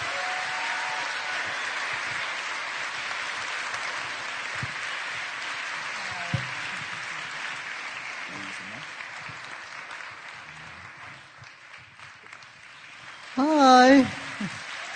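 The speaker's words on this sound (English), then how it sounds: "So please make a big round of applause to Sri Sri Ravi Shankar." An audience claps for Sri Sri Ravi Shankar at a live Mindvalley University event, a dense sustained round of applause that gradually thins and fades, with a brief louder burst of sound near the end.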